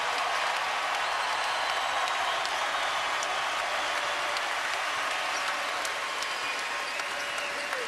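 Basketball arena crowd at an Iowa State at Kansas game roars and applauds in a dense, sustained wash of cheering and clapping that holds steady at full volume throughout.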